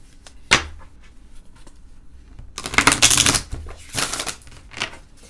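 Close shuffling of a large, stiff tarot deck, starting with a single sharp card slap, then a longer dense riffle and another burst of papery flutter near the end.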